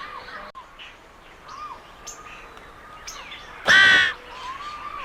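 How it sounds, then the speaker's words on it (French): Seagulls calling outdoors, a string of harsh, scattered cries from birds near and farther off, with one louder burst of noise partway through. "vos gueules, les mouettes!"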